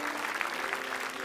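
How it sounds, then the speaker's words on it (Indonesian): Studio audience applause on an Indonesian comedy talk show, a steady dense wash of clapping at moderate level throughout, with no voices over it. "tepuk tangan"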